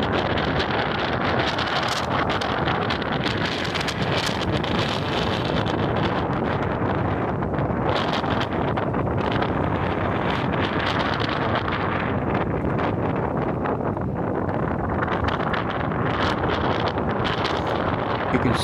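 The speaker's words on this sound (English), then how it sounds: "It's a very windy day." Strong gale-force wind buffets the microphone in a continuous loud roar with gusts at the Grand Haven channel and South pier in winter, along with rough water noise and no talking.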